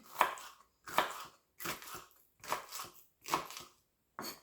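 Onions being cut with a knife for homemade tacos: six distinct bursts of chopping, each a cluster of crisp knife-and-board strokes, spaced roughly evenly with short pauses between, close and fairly quiet.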